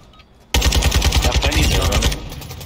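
Rapid automatic gunfire in a shooting video game: a loud, close, sustained burst of fast shots lasting about a second and a half, then cutting off to a quieter background.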